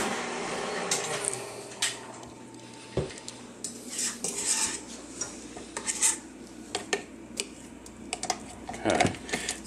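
Metal spoon scraping and clinking against a mixing bowl of pumpkin cheesecake batter, a run of close, uneven scrapes and taps throughout with faint background sound.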